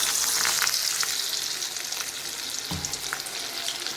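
Vadas deep-frying in hot oil make a continuous, close, even bubbling sizzle, with a brief clink partway through.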